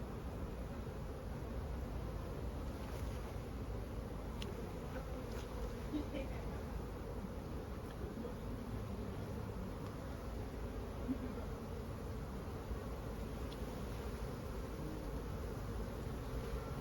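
Honeybees swarm around urban beehives in Paris, a continuous close buzzing drone with individual bees whizzing past and faint rustling underneath.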